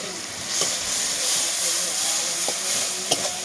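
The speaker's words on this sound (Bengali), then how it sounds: "এখন আমি সরষে বাটাটা দিয়ে দেবো।" Mustard paste going into tomato frying in a pan, with a steady close sizzle and a few clicks of stirring spread through it.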